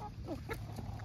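Backyard chickens cluck softly while eating napa cabbage, a few faint, brief clucks over a low outdoor background hum.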